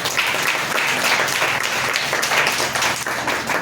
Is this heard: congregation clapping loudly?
yes